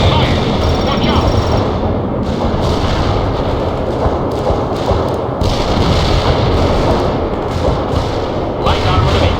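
Incoming gunfire and artillery in the strategy game World in Conflict, a steady barrage of thuds, shots and blasts throughout, with radio-style game voices over the battle noise.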